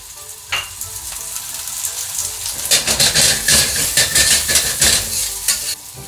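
Carrots and garlic fry in a hot pan, a loud close sizzle that swells as they are stirred, with rhythmic scraping and tossing strokes over the continuous hiss in the second half, with no talk.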